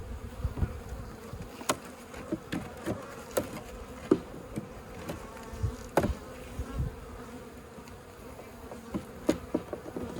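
Honeybees buzz steadily throughout an early-season hive inspection, a dense close drone broken by scattered sharp knocks and taps of frames and hive tools.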